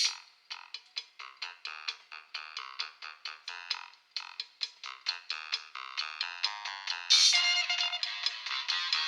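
A McDonald's Happy Meal Squishmallows frog toy plays a croaking song, a bright electronic tune of rapid repeated croak notes with a short pause midway and a louder passage near the end. No one speaks.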